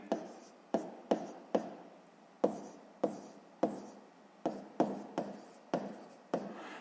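Pen strokes on paper while writing out a sixth-grade maths exercise, a steady series of short, sharp scratches at an irregular rhythm, close and alone.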